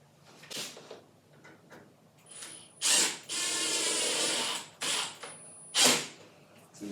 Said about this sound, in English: As you can see, it goes a little quicker with the drill.